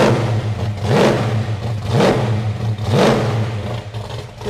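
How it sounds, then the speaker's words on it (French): A car engine revs up sharply three times in a steady rhythm, each blip rising in pitch and falling back to a rumbling idle, loud and close with no talk. "Mets-nous un petit coup de gaz."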